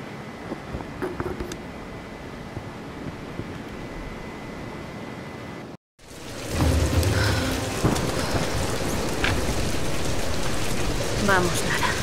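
A thunderstorm in the Tomb Raider video game: steady rain first, then a sudden louder wall of heavy rain and rumbling thunder after a brief dropout, with voices speaking over it.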